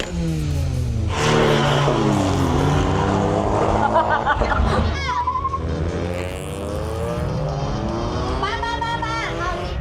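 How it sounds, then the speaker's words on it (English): Car engines rev loudly at a Thai car festival, with pops and backfires among stanced cars, engine tones rising and falling over crowd noise and an excited voice talking throughout. "He's backfiring from both ends."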